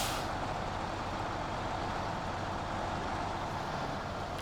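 A heavy truck in the SnowRunner game drives through Michigan terrain with a steady, loud diesel engine drone and rumble that holds evenly throughout, with no talk over it.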